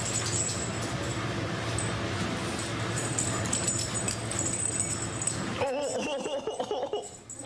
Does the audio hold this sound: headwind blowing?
no